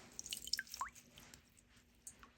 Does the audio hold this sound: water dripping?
yes